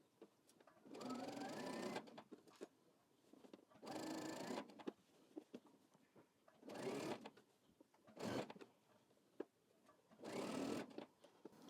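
Sewing machine stitching a men's drop-shoulder button-up shirt, running in five separate bursts of rapid whirring, each lasting one to two seconds with quiet pauses between, close and clear.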